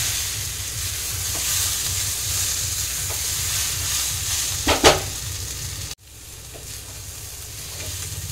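Young jackfruit frying on a low flame for a dum curry, giving a steady, even sizzle with a couple of brief stirring clicks, close by, then dropping abruptly to a softer hiss.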